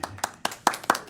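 Board meeting attendees give a few scattered claps, five or six sharp hand strikes close by in an uneven burst.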